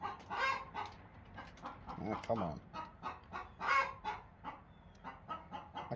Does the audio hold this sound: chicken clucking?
yes